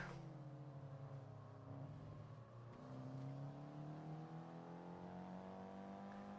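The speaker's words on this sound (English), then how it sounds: "It does sound like they put a very nice exhaust on this car." A car engine in Gran Turismo 4 revs and holds a steady, rising tone, with a raspy aftermarket exhaust note that dips briefly before climbing again, loud and continuous with no talking.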